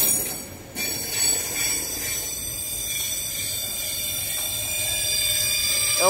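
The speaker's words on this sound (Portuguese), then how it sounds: "Tá vendo a passagem do trem?" VLI freight train climbing the Serra do Mar on broad gauge, passing close with a steady rolling rumble and a persistent high metallic wheel squeal, a brief louder clank near the start and squealing flaring at the end.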